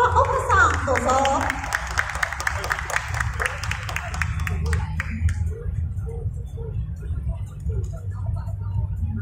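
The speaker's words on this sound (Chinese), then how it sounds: "我们请大家热烈的掌声来欢迎" At the opening ceremony of the 2023 international heavy motorcycle show, an audience claps a steady round of applause to welcome the Honda Taiwan representatives, strong at first then thinning and fading while a hall hum remains.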